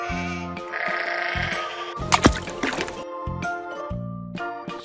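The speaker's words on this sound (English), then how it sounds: "Sheep." A sheep bleats several times in a loud, wavering voice, close up, with a burst of rustling and splashing in the middle and a faint background drone throughout.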